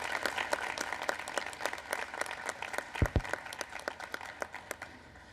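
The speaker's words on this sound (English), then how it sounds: "how about another round of applause for really a tireless public servant" An audience at a National Space Council meeting applauds steadily, many hands clapping together at moderate distance, with a couple of louder thumps midway.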